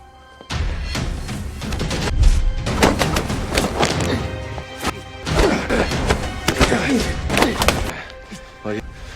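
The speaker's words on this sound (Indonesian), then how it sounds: "Pung Ho dihajar dan dipukuli." Heavy thuds and smacking punches land repeatedly in a film fight scene, close and forceful, over loud pounding music with brief bursts of voices.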